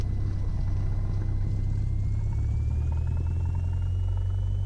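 Light aircraft piston engine running up to 1700 RPM on a grass strip before takeoff, a loud steady droning rumble with a constant low hum from inside the cockpit.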